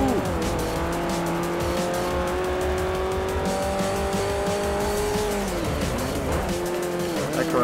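Race cars in Forza Motorsport 4 roar through a turn with loud, sustained tire squeal as they brake, engine pitch dipping then climbing again, a dense continuous din close up.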